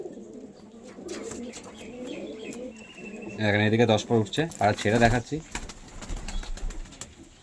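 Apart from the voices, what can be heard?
pigeons cooing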